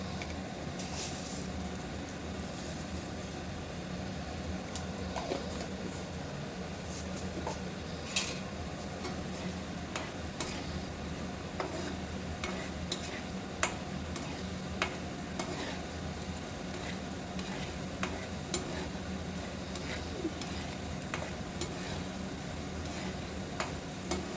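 Field beans, urad dal and mustard seeds fry in oil in a pan for tamarind pulihora, giving a steady close sizzle dotted with small ticking pops and occasional stirring scrapes throughout, with no voices.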